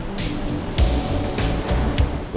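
Ocean surf breaking against steep cliffs at Shore Acres State Park near Coos Bay on the Oregon coast during king tides, a loud continuous roar with a few heavier crashes.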